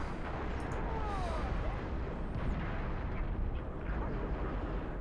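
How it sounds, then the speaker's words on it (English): A loud, sustained explosion in the Halo: Reach video game, rumbling as dense broadband noise across the whole stretch, with fainter whooshing effects over it. "That was explosion."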